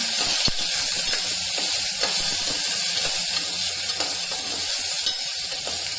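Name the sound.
stirring a bean and pea vegetable dish in a pan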